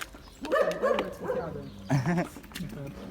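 Street dogs on a neighborhood road bark in short yapping bursts, a couple of clusters close by, with background street noise and no clear talk over them.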